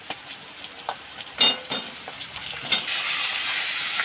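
Half a kilo of chicken going into fried onions in a kadai: scattered clinks and scrapes of stirring, then a strong, continuous sizzle that rises and holds close.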